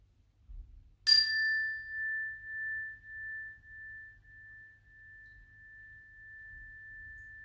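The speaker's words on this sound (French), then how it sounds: "Alors je vais sonner la cloche, vous allez écouter jusqu'au bout" A single strike of a meditation bell during a yoga and meditation session, a clear bright ding that rings out and slowly fades with gentle pulsing over several seconds, alone in a quiet room.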